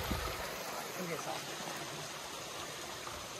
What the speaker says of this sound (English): Love waterfalls.